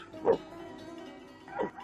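Two barks from a dog in a cartoon made from Ukrainian folk material, about a second apart, moderately loud over a faint background hum.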